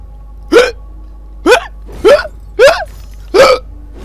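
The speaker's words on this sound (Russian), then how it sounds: "Мне нравится, когда Алиса икает." Alice, the heroine of the game Alice: Madness Returns, hiccups five times in a loose sequence, each one a sharp, close, voiced catch of breath standing out over a quiet background.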